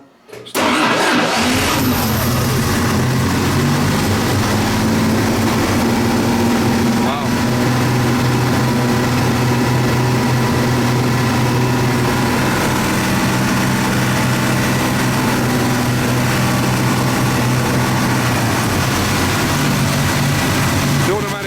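A rebuilt 1958 Jaguar XK 150 engine cranks and catches on its first start-up, then runs continuously as a loud, steady, rough idle up close, with voices talking over it.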